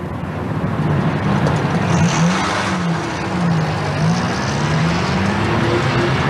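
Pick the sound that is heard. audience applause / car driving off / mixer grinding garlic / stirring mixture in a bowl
car driving off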